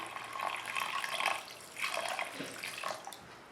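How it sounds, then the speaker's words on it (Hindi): Water from a glass poured into a cooking pan holding mutton keema with salt, ginger-garlic paste and green chili, a steady splashing pour that swells, pauses and resumes, fairly close and alone. "ये 1 गिलास पानी डालेंगे"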